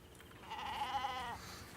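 A sheep gives a single, brief, wavering bleat at moderate distance, fairly quiet.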